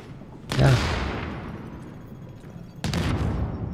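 Grenade blast in the shooter video game The Division during a firefight at a power plant. One heavy boom with a long fading tail is followed by a second burst of gunfire, under faint player chatter.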